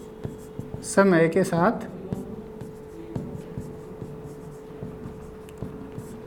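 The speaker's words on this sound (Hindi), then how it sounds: "मैं एक बार इसको हिंदी में लिख देता हूँ" A marker or chalk is being written across a board during a chemistry lesson on reaction kinetics, making faint, scattered scratchy strokes. A brief burst of speech comes near the start.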